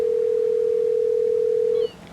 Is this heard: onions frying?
no